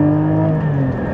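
A Porsche Cayman 987 sports car pulls hard in second gear on a road, its engine giving a loud steady rising drone for about a second, with no talk.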